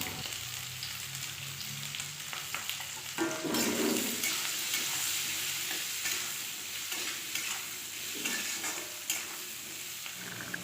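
Potatoes fry with salt and turmeric in a steady sizzle, broken by frequent scraping stirs and a louder burst of spatter partway through, close up with no one speaking.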